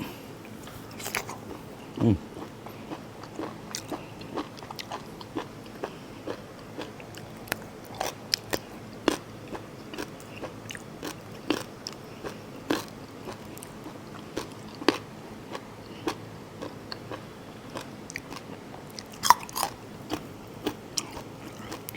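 Crisp, irregular crunches of chewing crispy fried crying-tiger beef, close and fairly quiet, repeating steadily with short pauses between bites.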